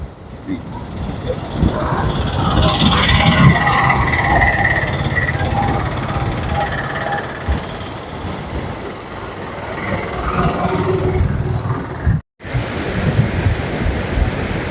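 Water rushes steadily from an opened dam shutter at Velliyamkallu, Thrithala, in Kerala, a loud, continuous broadband roar that fills the whole stretch, with faint voices underneath.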